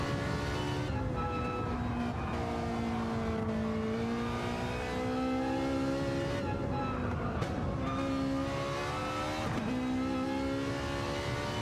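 Race cars in the Gran Turismo 7 sim racing game rev and accelerate through gear changes, engine tones rising and falling steadily for several seconds at moderate level.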